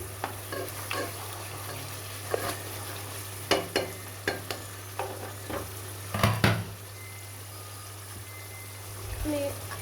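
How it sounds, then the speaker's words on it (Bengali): Goat meat with cinnamon, cardamom and bay leaves sizzles steadily in a pan while a spoon scrapes and stirs in repeated knocks, close and fairly loud, under a constant low hum. "মশলা কষানো হয়ে গেছে এ পর্যায়ে মাংস অ্যাড করে দিব দুইটা দারচিনি দুইটা তিনটা দারচিনি তিনটা এলাচ আর তিনটা তেজপাতা"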